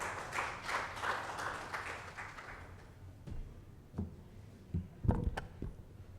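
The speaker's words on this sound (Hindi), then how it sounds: "जोरदार तालियां सचिन के लिए एक बार" Modest applause for a performer at an open-mic awards event, soft clapping that fades out over the first few seconds, followed by a few scattered taps and thumps.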